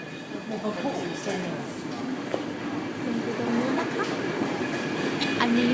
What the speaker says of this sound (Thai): น่าจะเป็นเคเบิลคาร์ที่เป็นเหมือนรถบัสรถรถรางรถราง นี่กำลังขึ้นมาแล้ว